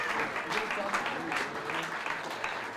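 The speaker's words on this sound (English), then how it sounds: "Can we get a round of applause for these guys" Applause at a school sports banquet for student award winners, a steady wash of clapping from a crowd with some voices murmuring underneath.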